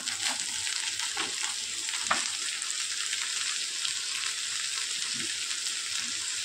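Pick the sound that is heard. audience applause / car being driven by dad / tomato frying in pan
tomato frying in pan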